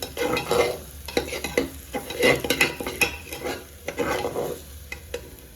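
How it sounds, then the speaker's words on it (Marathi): Coconut is stirred and fried in oil in a pan, with repeated scraping strokes of a spoon over a low sizzle in an irregular rhythm, close and fairly loud. "थोडंसं खोबरं हलवून घेते मी"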